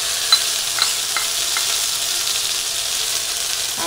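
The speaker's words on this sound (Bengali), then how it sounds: "এখন আমি এইটা ভেজে নেব এই তেলে, জিরে তেজপাতা" Cumin seeds and bay leaves fry in hot oil for a Bengali egg curry with taro, giving a steady, even sizzle with a few faint crackles early on and no voices.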